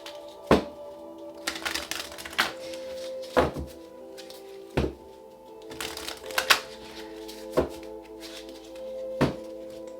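Oracle cards are shuffled in a series of sharp riffling bursts and soft taps, about a dozen irregular slaps spread across the stretch, close and fairly quiet.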